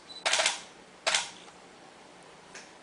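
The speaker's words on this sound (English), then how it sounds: "I'm going to hold my shutter button down. I'm in high-speed mode, so I should get 3 shots." A camera shutter in high-speed burst mode fires three times: two sharp, clattering bursts close together, then a fainter third click after a pause.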